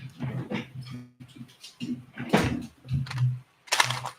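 A sewing machine top stitching a mountain saddle bag makes short, close, rhythmic mechanical bursts of whirring and clicking, separated by brief pauses.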